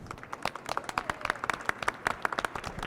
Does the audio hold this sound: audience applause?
yes